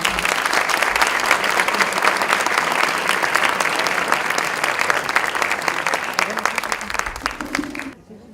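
Sustained audience applause at a conference on peace culture in the family, welcoming a doctor to the stage; dense steady clapping from a crowd fills the room for about eight seconds before cutting off abruptly.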